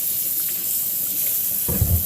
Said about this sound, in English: first thing we're going to do is turn on some water, and we want to wash off the celery